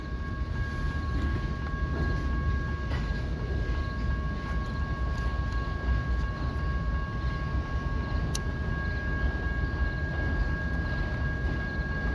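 A freight train carrying lumber cars and auto racks rolls past, a steady low rumble of wheels with a constant high steady tone and occasional clanks, sustained and moderately near.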